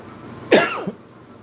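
A single harsh cough bursts out close to the microphone, followed by a brief throaty catch, then quiet room noise.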